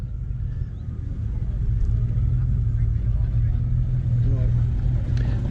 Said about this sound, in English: Our 1932 Hooper's show stand, Olympia show stand car we have now